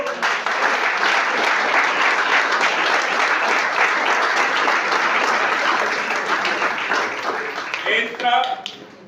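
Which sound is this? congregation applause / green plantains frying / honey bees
congregation applause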